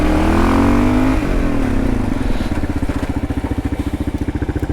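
An adventure motorcycle on Bridgestone AX41 tyres brakes hard on gravel with ABS engaging. The close, loud engine drone drops in pitch and settles into a throbbing, pulsing idle as the bike comes to a stop.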